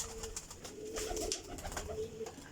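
Pigeons coo softly among high-quality flying pigeons, a series of low rolling coos with a few higher chirps, fairly quiet and close, with no talking.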